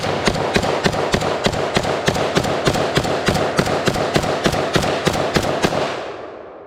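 A Beretta AR70/90 semi-automatic rifle fires a surplus magazine outdoors on a range, a fast, even string of about twenty loud, sharp shots that stops abruptly and leaves a brief fading echo.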